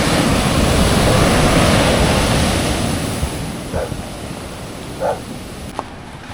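Typhoon-driven storm waves and floodwater surge around the lowest house on Panan Bay, Camiguin de Babuyanes Island, a loud continuous roar of rushing water and wind with a few brief splashes near the end.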